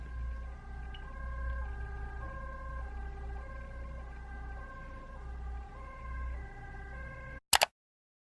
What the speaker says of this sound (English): Oh, sorry, there's an ambulance.